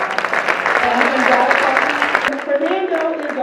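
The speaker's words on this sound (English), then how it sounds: "let's give Fred a round of applause" Audience applause at a charter school awards ceremony, a steady wash of clapping lasting a few seconds with crowd murmur mixed in.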